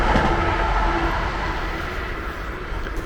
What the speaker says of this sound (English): Got a train just going past.